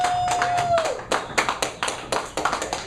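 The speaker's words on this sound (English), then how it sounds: "please give them a warm round of applause" Several people clapping at an open mic in a coffee shop, sparse and uneven claps rather than a full ovation, close by, following a brief tone at the start.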